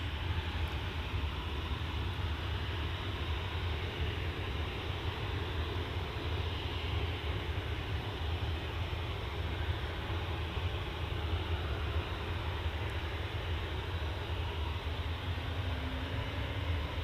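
Ryanair Boeing 737-800 airliner departing for Milan, a steady broadband engine roar that holds evenly at a distance throughout, with no talk over it.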